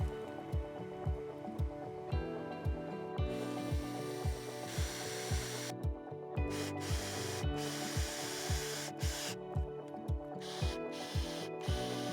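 Screws being driven into the corner of a wooden raised garden bed, a power driver's whirring punctuated by regular clicking ratchet pulses, close and steady, with short pauses between screws.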